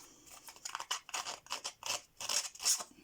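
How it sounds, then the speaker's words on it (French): Metal scissors scrape repeatedly across a paper identity card to give it a worn look, a close, dry rasping in quick uneven strokes with short pauses between them. "je vais la gratter avec mes ciseaux"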